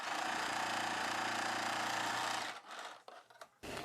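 A sewing machine stitches the belt of a cross cut blouse, running in a steady fast whirring rhythm for over two seconds before stopping, followed by a few brief handling clicks.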